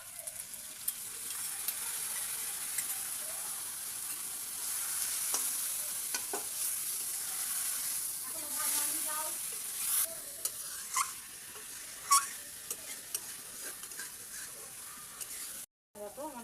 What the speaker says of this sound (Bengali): দেখো আমার আদা রসুনটা আলুটা একটু ভাজা ভাজা হয়ে গেছে।